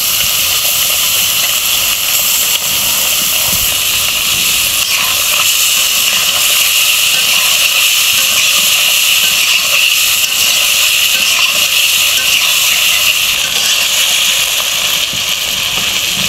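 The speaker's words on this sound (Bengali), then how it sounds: "মাছগুলো আমরা কড়া করে ভাজবো না" Continuous loud sizzle of horn fish lightly frying in hot oil in a wok, a dense even hiss without pauses or talk throughout.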